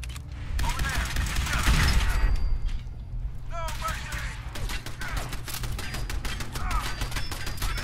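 Rapid gunfire crackles through a modded survival session of Fallout 4, bursts of automatic shots and heavy thuds repeating over several seconds, with voices speaking over the firefight.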